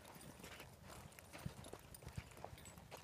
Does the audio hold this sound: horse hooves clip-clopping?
yes